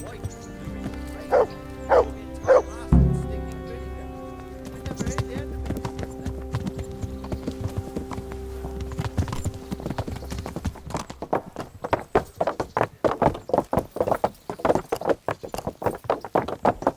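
Horse hooves clip-clopping at a steady walking rhythm in the medieval game Kingdom Come: Deliverance, with a few barks and short voiced sounds near the start before the hoofbeats grow louder and faster.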